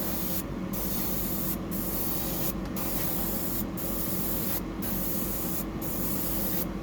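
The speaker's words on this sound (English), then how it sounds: "Alright, so I'll just put a clear coat over that." Clear coat is sprayed onto a handmade 175 mm mullet fishing lure in a steady, close hiss broken by several short gaps between passes, with no talk.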